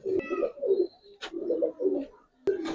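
Giribaz coloring pigeons coo up close in repeated low, rolling phrases, with a couple of sharp clicks or wing taps between calls.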